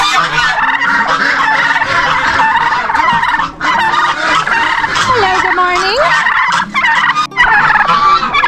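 Loud, repeated turkey gobbling from a flock nearby, overlapping calls throughout, with a person briefly greeting them.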